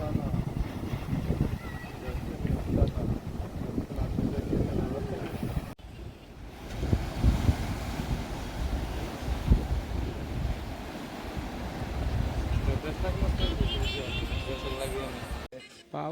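Sea waves surging and breaking on the Konkan coast near a fort, a continuous roar of surf with wind buffeting the microphone while people talk over it.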